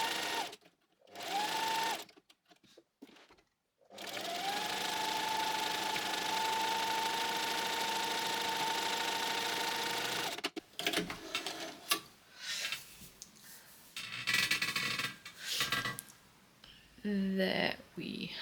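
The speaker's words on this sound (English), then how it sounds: "We're going to catch all the edges within the zigzag stitch." A sewing machine zigzag stitches along fabric seam edges. It starts with a few short bursts, then runs in one steady stretch of humming needle chatter, and a voice talks over quieter handling and brief stitching afterward.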